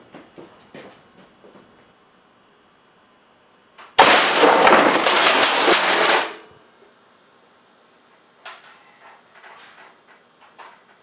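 Air cannon blasts a slug at 500 psi into three old computers: one loud, roaring burst of about two seconds that stands well above scattered clattering and small knocks of debris before and after.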